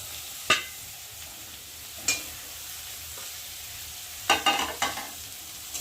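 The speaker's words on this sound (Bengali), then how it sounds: "হলুদ গুঁড়ো দিয়ে মশলাটা আলুর সাথে আরেকটু ভালো করে ভেজে নেব" Potatoes and prawns frying in a pan with turmeric spice paste for a bottle gourd greens dish, heard as a quiet low sizzle broken by a few sharp spatula scrapes and stirs.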